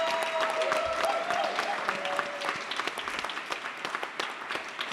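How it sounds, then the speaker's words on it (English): An audience at a poetry reading applauds with a dense burst of clapping that thins to scattered claps as it fades, with a faint high tone sounding over it early on. "Can we please take a round of applause to John, too, for making..."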